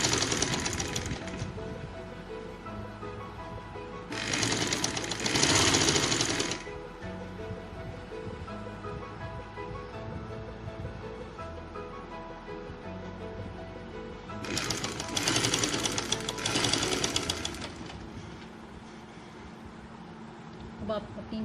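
Sewing machine stitching a box pleated girls' frock, two short rapid whirring runs separated by quiet pauses, close by, with someone talking between the bursts.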